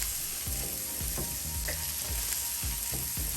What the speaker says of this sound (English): we're going to break it on up, and we're going to mix it and combine it with our veggies